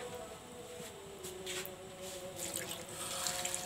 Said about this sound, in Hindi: अब हम इसके अंदर 2 गिलास पानी शामिल करेंगे।